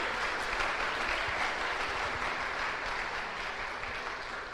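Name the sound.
congregation applauding in church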